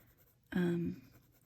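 A Prismacolor colored pencil moves across drawing paper in one short, scratchy stroke of about half a second, fairly close and soft, set against quiet room tone.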